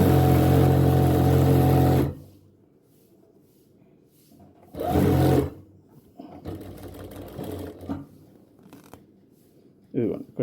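A tailoring sewing machine with a thread tension problem runs in three bursts of rapid mechanical stitching: a loud two-second run, a shorter run in the middle and a brief final one, with quieter handling sounds in between.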